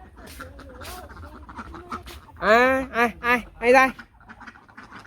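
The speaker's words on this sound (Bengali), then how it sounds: "হাঁস এসে পড়ছে" Village ducks coming home at dusk give a few loud, harsh, close quacks in a quick burst. A person's voice calls and talks over the fainter background before and after.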